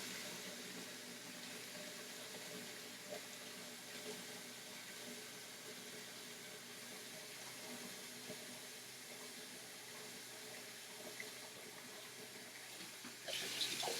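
Cold tap water runs steadily into a cooking pot being filled for pasta, a constant even rush that holds for the whole stretch and swells slightly louder near the end.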